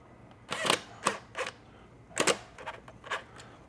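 Screw being driven by hand into a 5.25 to 6.5 inch car speaker adapter: a few sharp clicking, ratcheting bursts in uneven rhythm, close and fairly quiet, with no talking.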